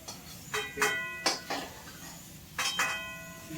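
Utensils clink and scrape sharply against a pan as fried potatoes are lifted out while making Bengali chicken fry, in two close bursts of metallic knocks separated by a short pause.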